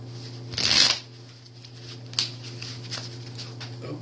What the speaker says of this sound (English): Let's pull some other cards just to get some clarification.